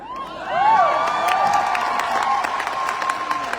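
An audience at a crowded indoor gathering cheers and whoops loudly while hands clap throughout, a steady roar of voices and sharp claps filling the space.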